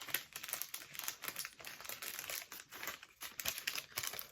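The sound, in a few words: paper being slid into an envelope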